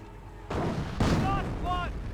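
Mortar shells landing on Grenadier infantry in Company of Heroes, heard as several heavy booming impacts about half a second apart, each with a rumbling tail, while a commentator talks over them.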